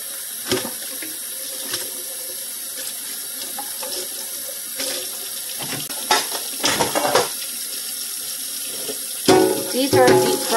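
Bowls are washed under a running tap in a sink, with steady splashing water, scattered clinks and knocks of dishes and a louder clatter near the end. A person speaks briefly over the water.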